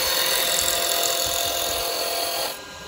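A spindle gouge cuts a spinning wooden duck egg cup on a lathe, with the bevel rubbing: a steady, close, hissing scrape that holds evenly and then drops quieter near the end.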